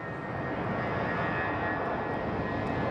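A Boeing 787 Dreamliner bound for Honolulu taxis at Sky Harbor Airport, its engines a steady, fairly even roar heard from a middle distance, with no voices.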